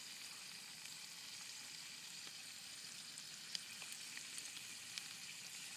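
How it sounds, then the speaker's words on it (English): Freshly shot and skinned squirrel fries in a frying pan over a campfire outdoors, giving a steady, close hiss of sizzling fat with a few faint pops and crackles. "now cooking it in the frying pan"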